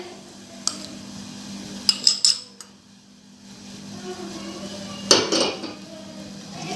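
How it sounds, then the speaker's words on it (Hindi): Rasmalai mix and oil being stirred in a bowl, a few sharp utensil clinks against the bowl in bursts, with a louder scraping flurry near the end over a low steady hum; no talking. "इसको हम अच्छे से मिक्स करेंगे।"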